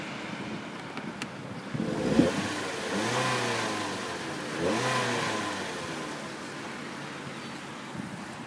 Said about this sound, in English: I will accelerate